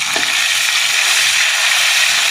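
Ginger paste frying in hot oil with five-spice (panch phoron) in a pan, giving a loud, continuous close-up sizzle with a faint stir near the start.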